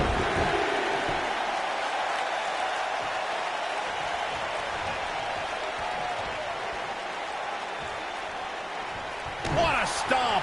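Arena crowd in the WWE 2K19 wrestling video game, a steady loud roar of cheering filling the space throughout, with a sharper burst of noise near the end.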